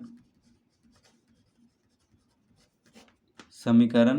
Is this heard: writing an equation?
yes